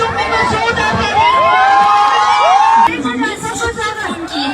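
At a showroom opening in Sitamarhi, a large crowd cheers, whoops and shouts loudly, with scattered clapping and excited voices rising over the steady roar.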